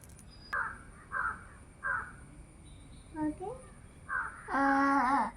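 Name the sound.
crow cawing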